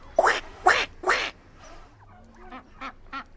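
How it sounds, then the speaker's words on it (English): Several loud, close duck quacks on a farm, three strong calls in quick succession followed by softer, more distant quacking, with no voices over them. "We saw a duck across the way. And what do you think we heard it say? Quack, quack, quack."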